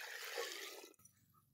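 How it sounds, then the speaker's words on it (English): Water is poured into a pressure cooker over rice, beans and vegetables, a short close splashing pour that stops abruptly and leaves near silence. "Then you add some water."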